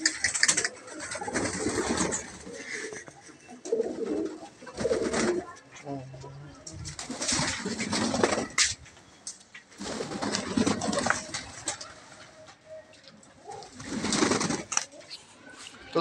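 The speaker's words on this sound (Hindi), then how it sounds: "तो अभी थोड़े से कबूतर नहा ही रहे हैं" Pigeons coo and flutter while bathing, with repeated low cooing and bursts of splashing and wing flapping, close by; someone talks intermittently over them.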